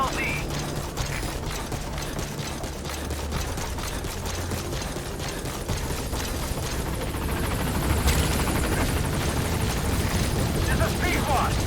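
Helicopter arriving for an extraction in the video game Metal Gear Solid V: The Phantom Pain, a steady mechanical rotor drone that holds throughout and grows slightly louder toward the end, with game speech over it.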